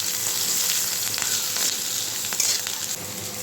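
Dried chili, ginger and green chili fry with potato in hot oil, a continuous close sizzle with a few faint scraping stirs and light clicks, no talking.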